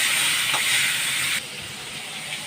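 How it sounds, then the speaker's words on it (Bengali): Fish coated in turmeric and salt frying in hot oil, a loud, close, steady hiss that abruptly drops to a softer, sustained sizzle partway through. "মাছটা ভাজা হোক।"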